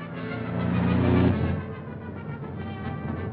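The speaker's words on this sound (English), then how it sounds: "There's a car following us." Car engine from a 1937 film rumbles steadily close by, a low motor drone swelling briefly then holding, with no talk over it.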